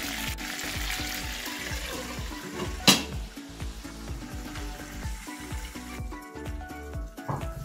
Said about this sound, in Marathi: या प्रकारे आपण असे वांगे परतून घ्यायचे।